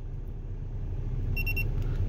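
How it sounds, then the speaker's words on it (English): An inclinometer tilted past 30 degrees gives a short burst of high, evenly spaced beeps, about four quick pulses, faint over a steady low rumble of background noise. "if I move this around and it exceeds 30 degrees, it starts to beep"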